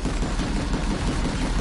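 A vehicle turret fires continuously in the Planetside 2 video game, a dense, loud, unbroken burst of gunfire that fills the whole short moment.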